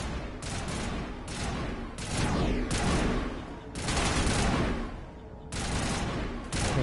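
Enemy gunfire in the Mass Effect video game comes in loud, sustained bursts of weapon fire that repeatedly start and stop, several volleys overlapping closely over a dense combat background.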